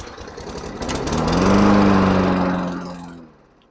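A lawn mower's small engine catches after cleaner was applied and sputters into life, swelling to a loud rumble, then quickly dying away, close up with no voices.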